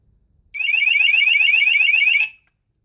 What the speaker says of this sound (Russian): Это будет пищать.